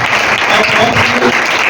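A church congregation claps steadily through a Urdu/Hindi sermon, a dense, loud burst of applause that fills the whole moment with no voice above it.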